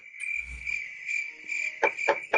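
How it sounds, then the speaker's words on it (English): Steady high-pitched cricket chirping fills the background, continuous and fairly faint, with a few louder rustling bursts near the end. "Oh, crickets, folks, crickets."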